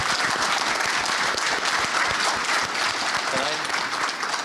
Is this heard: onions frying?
no